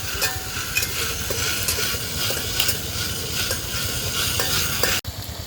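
Spices and whole garam masala fry in a pan with meat, a steady sizzling hiss layered with frequent scraping strokes of a stirring utensil, cut off by a brief dropout near the end.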